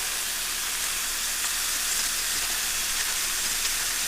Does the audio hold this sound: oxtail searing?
yes